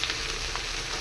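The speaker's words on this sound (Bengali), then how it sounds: "এবার ভেন্ডিগুলো সব দিয়ে দেবো।" Okra tipped into onions frying in a pan gives a steady, soft, hissing sizzle that continues throughout.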